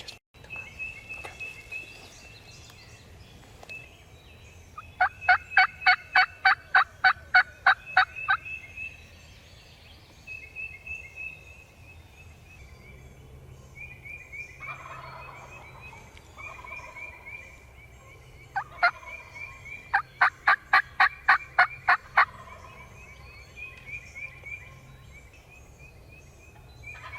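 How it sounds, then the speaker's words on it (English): Wild turkey gobblers gobble outdoors at a spring hunt, several rattling gobble bursts arriving in clusters at moderate distance, with quieter bird calls and faint rustling between them. "So those, they quit gobbling."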